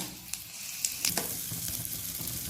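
Mustard seeds, fennel and asafoetida crackle and sizzle in hot coconut oil, a steady close frying hiss broken by sharp pops and spits.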